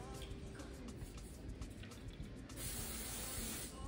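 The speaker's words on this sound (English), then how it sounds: "You go in and spray it." Hairspray hissing in a continuous close spray onto a curled pink wig, one long burst that grows slightly stronger toward the end, with no talking over it.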